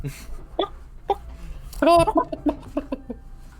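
A video game rooster clucks in short, choppy calls with one louder squawk in the middle, over quiet background noise.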